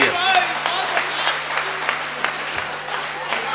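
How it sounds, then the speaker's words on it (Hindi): An audience at a Hindi kavi sammelan comedy poetry event breaks into loud applause that fades gradually into scattered claps, with a voice speaking over it. "तालियां बजाओ जरा खुल के एक बार।"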